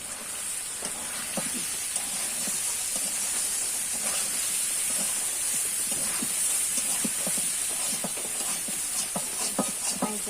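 Soybean and potato curry being sautéed in a wok, with a steady, even sizzle and hiss throughout and scattered light scraping clicks from stirring.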